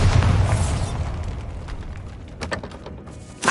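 A Bombarda spell explosion in the video game Hogwarts Legacy bursts with a loud low boom at the start, then rumbles and fades, with a few sharp crackling debris hits trailing after it.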